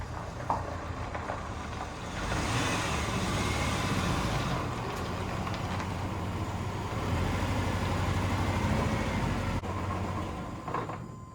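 An old Chevy truck engine idling steadily after starting on old gas with new plugs, a low continuous rumble at moderate distance, with no talking.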